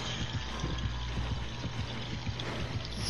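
Water being poured in the video game Dead by Daylight: a continuous, fairly quiet trickling splash with faint bubbling that carries on steadily for the whole stretch.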